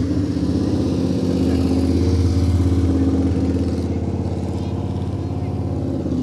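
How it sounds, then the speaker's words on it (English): A Shriners' car in a Christmas parade holds a loud, continuous engine rumble close by, with the idle rising and staying revved throughout. "look at that automobile. I think he wants to race."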